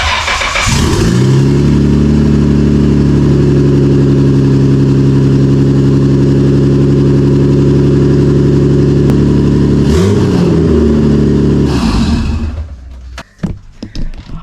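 A Nissan Skyline R32 GTR with a newly fitted exhaust runs loudly and steadily for about twelve seconds, a deep droning engine note with slight revs near the end before it cuts off.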